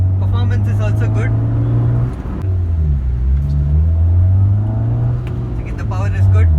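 A used car's engine during a test drive in Chennai, a loud, steady low rumble that swells and shifts as it revs, with no talk over it.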